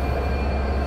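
Broad gauge diesel-electric locomotive 6310 (BP32) on the Madhumati Express, a steady loud engine rumble with a deep, constant drone and no voices.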